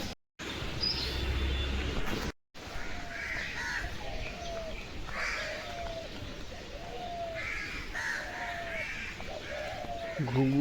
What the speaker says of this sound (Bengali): ঘুঘু ডাকছে,